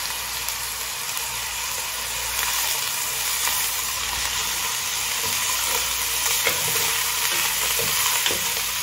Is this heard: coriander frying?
yes